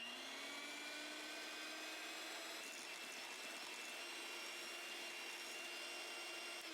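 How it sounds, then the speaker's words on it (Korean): An electric hand mixer whips honey lemon muffin batter with lemon zest and juice in a bowl, a steady high-pitched motor whine droning continuously at close range without pause. "레몬 제스트와 레몬즙을 넣어주고 전체적으로 섞일 정도로 휘핑을 해주세요"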